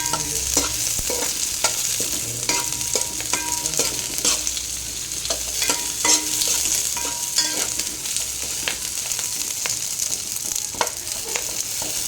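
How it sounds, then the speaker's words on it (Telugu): Ingredients for fish pulusu frying lightly in a pan, with a constant sizzle and repeated stirring and scraping of a spoon against the pan, close up and without talk. "లైట్గా వేపుకోవాలి"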